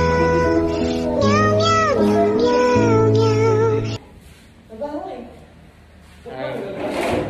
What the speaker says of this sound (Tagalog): Dito namamahay yung pusa guys.